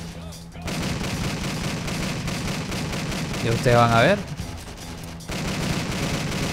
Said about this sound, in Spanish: yo ayudo un poquito con algo de disparos